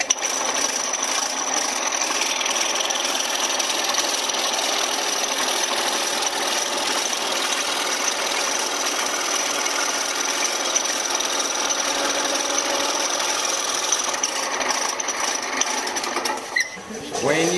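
A cutting machine runs steadily through casserole holder material, a loud, close, continuous buzzing whir that holds for about sixteen seconds before winding down at the end.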